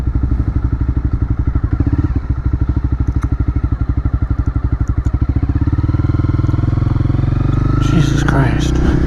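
A Honda CB300R motorcycle engine thrums in close, fast rhythmic pulses while riding, shifting to a smoother, windier drone partway through, with a voice speaking over it.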